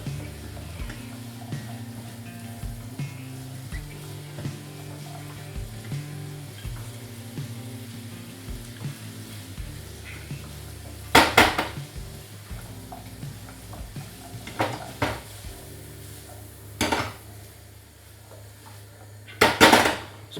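Onions and carrots sizzle steadily in a pan for a Lancashire hotpot, with stirring scrapes and a few sharp utensil clatters against the pan.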